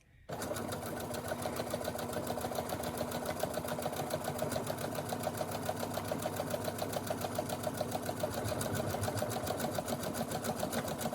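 A Brother SE1900 sewing machine stitches at a steady fast rhythm, a close, even mechanical chatter that starts abruptly and runs continuously without pause, with no talking over it.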